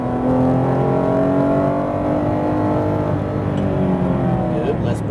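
A Porsche GT3 RS pulls hard on a racetrack, its engine note close and steady as it accelerates, with a coaching voice talking over it.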